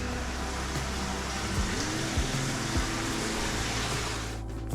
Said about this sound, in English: There's also a cold plunge and a sauna that sounds like the rain.